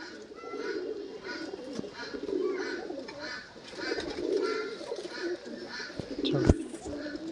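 Madrasi pigeons coo in repeated rolling phrases close by, the deep throaty calls pulsing at a steady rhythm with a sharp knock near the end.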